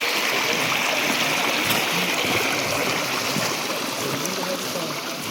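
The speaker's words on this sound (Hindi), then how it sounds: "तो पानी है यहाँ पे, देख लो स्प्रिंग है ये, देखो झरना" A small waterfall and stream on the Peñas Blancas trek in Chingaza National Park, Colombia, rush steadily and loudly up close, an unbroken wash of flowing water with no voices.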